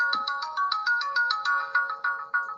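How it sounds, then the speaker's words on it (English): A phone ringtone plays a repeating electronic melody of bright tonal pulses, steady and fairly loud, with no talking over it. "Oh, they calling my phone."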